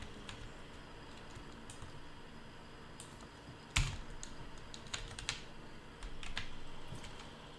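Fingers typing on a computer keyboard nearby, with irregular clicks and taps and one sharper knock partway through, quiet and alone without speech.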